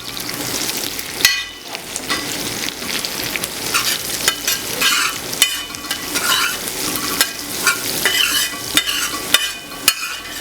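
Green chillies and curry leaves sizzle in hot oil in a pan, with bursts of crackling and repeated scraping stirs over about ten seconds, no voices.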